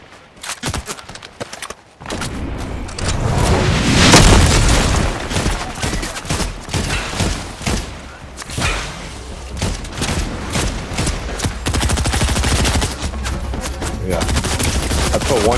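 Gunfire in a shooter video game, with rapid bursts and sharp shots amid a chaotic, loud mix of game sounds that continue throughout.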